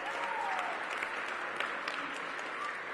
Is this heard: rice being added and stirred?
no